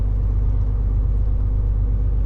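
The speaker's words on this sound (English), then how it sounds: "Seems to be a lot of traffic here at the moment" Road traffic sits in a hold-up at roadworks on the A465 Heads of the Valleys road, a steady low rumble of car engines and tyre drone, close and unbroken with no voices.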